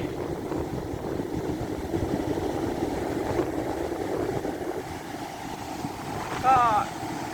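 Strong Pacific Ocean waves surging onto a sandy beach in Australia at dusk, a steady roar with wind buffeting the microphone and a brief louder rush near the end.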